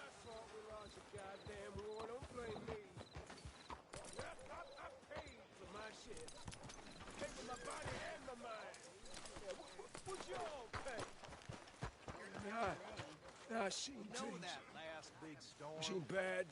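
Horse hooves clip-clop in a steady rhythm in a video game, mixed with game sounds and a voice talking over them.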